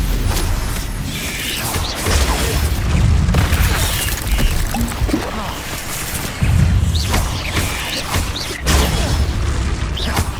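Stupefy spell combat in Hogwarts Legacy: loud repeated magical blasts and booming impacts in bursts amid dense game effects, with a player shouting over the action.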